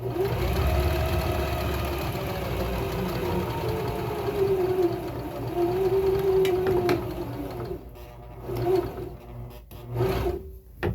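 A sewing machine stitches fabric for a handmade farmer's market product, a continuous close mechanical whirring with rapid needle chatter that pauses and restarts near the end.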